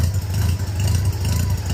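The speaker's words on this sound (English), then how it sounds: "she's idling way rich" A carbureted car engine idles rich while still cold, with a steady low rumble and a slightly uneven, loping pulse that stays close and fairly loud throughout.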